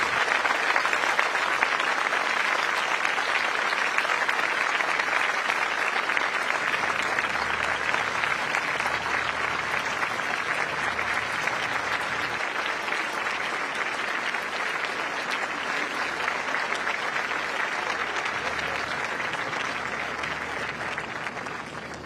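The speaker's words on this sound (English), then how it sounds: "arriving to a round of applause from the audience" An audience gives sustained, even applause as outgoing Singapore Prime Minister Lee Hsien Loong arrives at an outdoor lawn venue, a dense wash of clapping from a large crowd that runs throughout, with faint commentary underneath.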